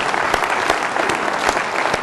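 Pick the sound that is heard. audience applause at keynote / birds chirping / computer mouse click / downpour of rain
audience applause at keynote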